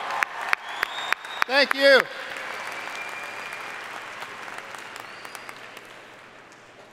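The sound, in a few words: audience applause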